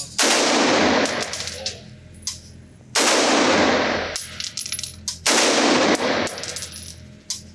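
Three loud rifle shots from an AR-15 fitted with an Adams Arms piston upper ring out at a shooting range, each a sharp blast with a ringing tail, spaced a couple of seconds apart, with faint clinks between them.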